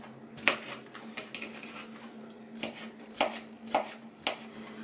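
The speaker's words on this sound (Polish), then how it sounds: "My za ten czas pokroimy naszego ananasa." Knife chopping pineapple into small pieces for a no-bake cream cake: a run of sharp, close board taps, first scattered, then a few evenly spaced cuts, over a steady faint background hum.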